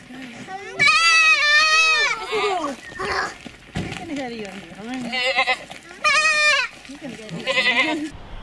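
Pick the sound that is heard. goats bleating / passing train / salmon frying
goats bleating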